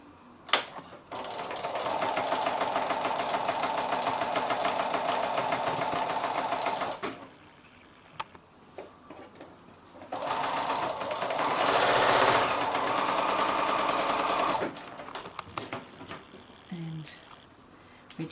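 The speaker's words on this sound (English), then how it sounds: "now I'm going to go back to the sewing machine and sew those 2 diagonal lines" A sewing machine runs in two long bursts of rapid, even stitching on quilt fabric, separated by a short pause with faint handling noises, close and clear.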